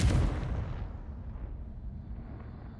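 A Confringo fire spell blast in Hogwarts Legacy goes off with a sharp opening boom, then trails into a low, crackling rumble that fades slowly.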